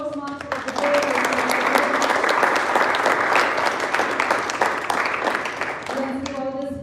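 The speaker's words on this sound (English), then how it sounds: "Let's give a round of applause to our lovely Toastmasters of the day." Steady, dense applause from the audience at a Toastmasters meeting during a speech marathon, filling about five seconds between a speaker's voice at the start and at the end.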